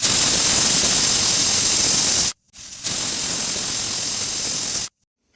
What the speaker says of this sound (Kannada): ಕುಕ್ಕರು 2 ವಿಸಿಲ್ ಹೊಡೆದ್ರೆ ಬಿರಿಯಾನಿ ರೆಡಿ.